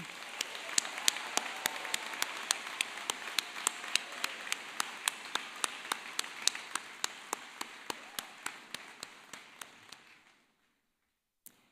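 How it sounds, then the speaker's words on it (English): Crowd applause at a university commencement ceremony with sharp, evenly spaced claps standing out close by, steady for about ten seconds before stopping abruptly. "Let's have a collective round of applause"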